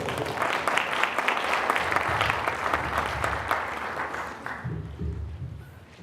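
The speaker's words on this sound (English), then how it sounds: "We can give him a round of applause." Sustained audience applause for a church pastor at a Martin Luther King Day celebration in Highland Park, a dense, steady wash of many clapping hands in a hall that fades toward the end.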